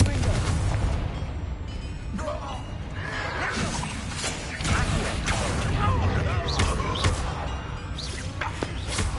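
Confringo blasting spell in Hogwarts Legacy: bursts of explosive booms and crashing impacts repeat over several seconds amid combat noise, fairly distant and layered beneath faint voices.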